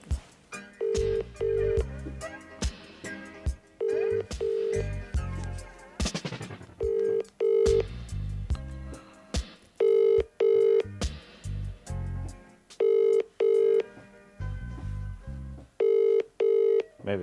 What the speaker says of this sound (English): let's just phone him